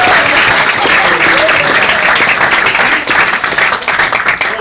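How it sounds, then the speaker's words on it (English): A wedding reception crowd gives loud, sustained applause for the groom's father during the speeches, dense clapping filling the room and thinning slightly toward the end. "Please give him a nice round of"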